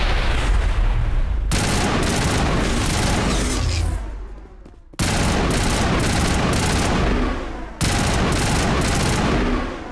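Video game Mass Effect firefight: loud, dense bursts of gunfire mixed with heavy explosive booms, dropping off briefly near the middle before the barrage resumes at full force.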